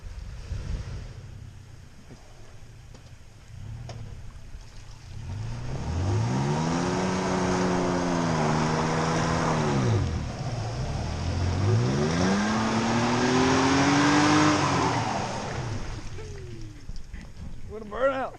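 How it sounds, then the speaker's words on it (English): A Toyota Tacoma TRD Sport without locking differentials spins its tires in deep snow, engine revving and wheels whining up and down in long rising and falling sweeps, with wind noise and people talking nearby. "What a burnout!"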